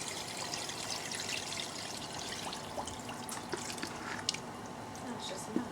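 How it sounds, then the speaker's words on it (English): Water poured into a pot over stew chicken in a home kitchen, a steady close trickle and splash with small drips, running continuously. "If you just pour enough water in here to cover the chicken"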